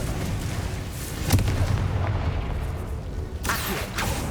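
In Hogwarts Legacy, the Confringo fire spell lands as two heavy booming blasts a couple of seconds apart, each a sharp burst that rolls off into a rumbling tail over game ambience.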